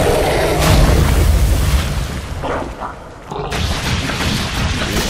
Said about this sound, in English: There's some more poison missiles.